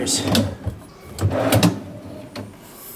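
A hotel room chest of drawers at a Courtyard Marriott gets a drawer pulled open and pushed, giving a few short wooden slides and knocks in between someone talking nearby.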